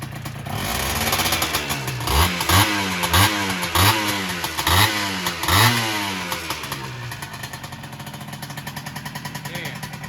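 A used off-road dirt bike engine is revved sharply about six times in quick succession, then settles into a steady, rattling idle; loud and close, with no talking.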